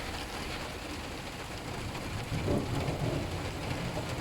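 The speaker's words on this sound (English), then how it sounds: "it's raining" Rain falling steadily outdoors during fibre optic splicing work, a dense continuous hiss of drops that swells a little louder toward the end, with no voices.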